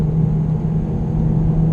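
A Honda Civic Type R FK8 engine drones loud and steady while accelerating on the Nürburgring Nordschleife, a low, constant rumbling tone filling the cabin with no break.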